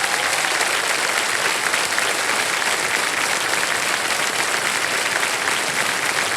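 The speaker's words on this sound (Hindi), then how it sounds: "ताली बज जाए आरती जी के लिए।" A studio audience at the KBC quiz show breaks into sustained applause for a contestant, a thick, even wall of clapping that holds steady throughout with no talk over it.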